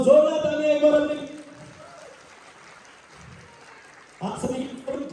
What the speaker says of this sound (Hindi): जोरदार तालियां एक बार अपने